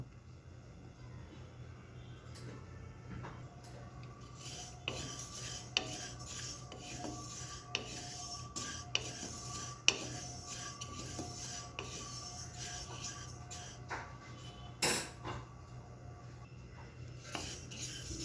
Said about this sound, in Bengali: আমি প্রথমে এই যে সাদা তিলটা দেব, এটা আমি ভেজে নিচ্ছি।